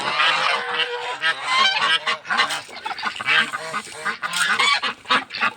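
A flock of ducks quacking and honking continuously up close, many overlapping calls with no pauses.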